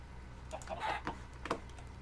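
Chicken clucking in the Minecraft video game, a few short clucks heard close and clear within about two seconds, with no talk over them.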